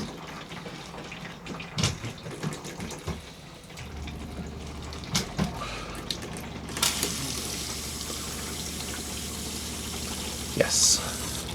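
Hot water running from the tap of a converted coffee trailer, flowing steadily with a rushing hiss that gets louder partway through, with handling knocks and a low hum underneath.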